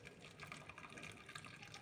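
Hot water is poured over dried apricot paste (qamar al-din) for a Ramadan drink, a soft steady splashing and trickling stream, faint and close.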